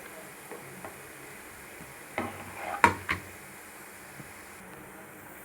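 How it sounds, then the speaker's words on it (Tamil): Khajoor sweets frying in hot oil in a flat pan over a medium flame give a soft, steady sizzle, with a few faint clinks and taps; no one speaks. "எண்ணெய் காய்ச்ச உடனே நம்ம மீடியம் ஃப்ளேமில் வச்சு நம்ம இப்படியே ஒன்றா போட்டு பொரிச்சுக்கலாம்"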